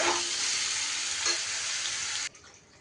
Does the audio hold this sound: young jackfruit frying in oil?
yes